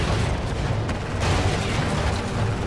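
Cannon fire in the Renegade Ops vehicle shooter: a dense, continuous barrage of booming blasts and rumbling detonations, loud and close, with no clear gaps between shots.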